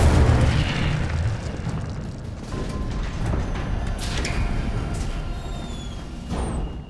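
A fire spell is cast in Hogwarts Legacy, giving a loud whooshing burst and rumbling booms, then sustained roaring fire with bright magical shimmer and a later flare.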